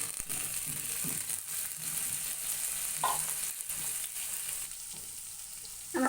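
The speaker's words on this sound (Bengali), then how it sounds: "এবার একটু আমি ভেজে নেবো চিংড়ি মাছগুলো পেঁয়াজের সাথে" Prawns frying with onions in a pan, a continuous close sizzle with intermittent crackles and stirring scrapes.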